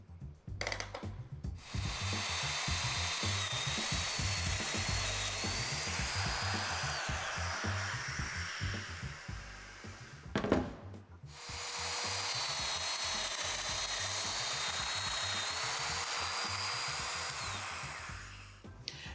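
A power tool cuts mortises into wood panels for a mobile MFT cart, two long whirring passes of a high motor whine with rubbing and grinding, split by a brief clunk and pause, close and fairly quiet.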